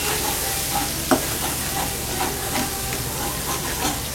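Bengali fish kalia masala being stir-fried in a pan, a loud continuous sizzle with repeated scraping strokes of a spatula and one sharp knock near the start, no voices.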